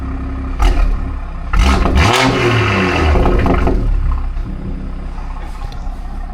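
A car engine revving hard close by between buildings, with a couple of sharp throttle blips building into a loud, sustained roar that rises and falls.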